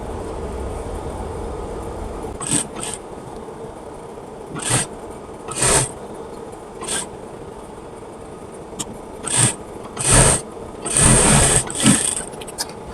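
A sewing machine stitching baby pants runs in several short bursts of whirring, spaced apart with pauses between them, close and fairly loud.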